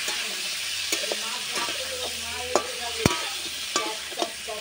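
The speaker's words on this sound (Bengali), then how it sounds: "এই দেখো ভালোভাবে নেড়ে ভেজে নিয়ে তারপরে জল ঢেলে মাছ তুলে দেবো।" Fish curry masala fries with a steady sizzle in a pan as a utensil stirs it, with sharp scraping knocks against the pan at irregular intervals, close and clear.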